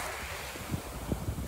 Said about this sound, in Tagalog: napakasarap pakinggan yung mga alon galing doon sa dagat